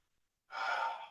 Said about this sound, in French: On prend une grande respiration après avoir dit autant de mots.